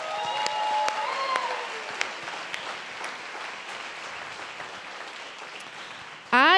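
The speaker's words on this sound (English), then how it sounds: "let's give all the artists a big round of applause" Applause from an audience for artists at the DC Mayor's Arts Awards, a moderate steady patter of many hands heard from a distance, with a few sharper claps and a loud burst at the very end.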